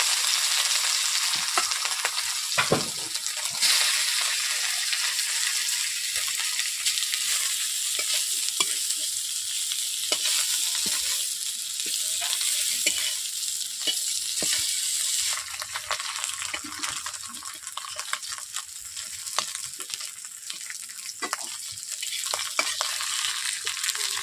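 Pieces of salted vola fish fry in hot oil in a kadai for a Bengali jhal, giving a steady, loud, broadband sizzle that runs throughout, with occasional stirring scrapes and spatters.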